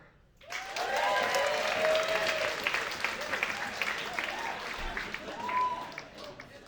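A comedy show audience bursts into loud, sustained applause mixed with whoops and cheering voices, swelling quickly, then tapering off with a second burst of shouts near the end.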